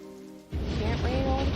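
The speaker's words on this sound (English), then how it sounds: "I wish the rain would stop just once" Heavy rain in the 1994 film The Crow bursts in abruptly after a brief tonal moment, then holds as a loud, dense, steady downpour.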